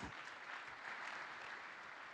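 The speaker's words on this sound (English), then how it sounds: "Could we have a big round of applause for these guys?" Audience applause at the LeWeb'08 tech conference, a large crowd clapping in a dense, sustained wash, even in level and somewhat distant throughout.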